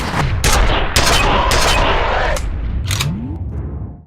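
Close gunfire from a firefight in F.E.A.R.: several sharp, loud shots in irregular succession with heavy reverberant crashes between them, no voices.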